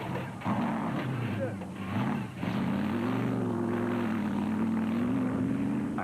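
A 6-litre off-road race vehicle at the Limpopo 400 roars past under a commentator's voice, its engine note climbing and holding as a loud, sustained drone.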